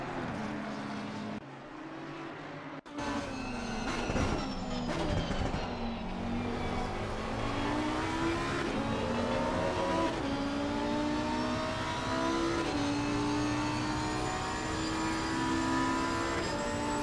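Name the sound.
onboard Lamborghini race car engine, Imola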